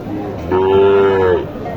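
A single cow moos loudly and close at a busy cattle market, one long sustained low call lasting about a second, with crowd chatter and background noise around it.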